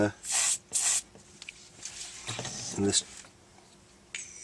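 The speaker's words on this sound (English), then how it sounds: "Just a little bit of switch cleaner in there." Switch cleaner from an aerosol can sprays in two short, close hissing bursts onto the switches of an Amiga 500 Plus disk drive, followed by faint handling clicks and rubbing.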